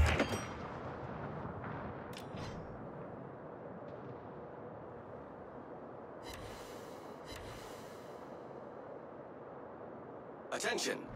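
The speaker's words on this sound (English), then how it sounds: "All stations requesting fire on the designated target." Heavy naval guns boom in World of Warships, with a loud opening blast followed by a steady roar of sea and engine noise and a few distant salvos, ending in another close report.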